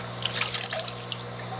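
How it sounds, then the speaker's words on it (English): Water drips and trickles as aquarium equipment from a clownfish grow-out tank is rinsed off, a short, close splashing patter over a steady background hum. "you can take it off, rinse it off, and then continue with the rest"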